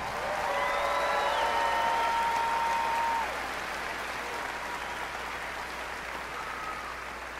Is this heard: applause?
yes